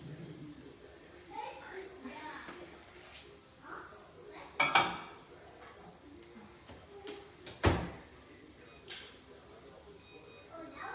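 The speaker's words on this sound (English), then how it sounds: "So I'm gonna stick this in the microwave." A pasta dish is placed into a microwave, with light clinks of dishware and two sharp clunks of the microwave door, amid kitchen handling noises and a person talking.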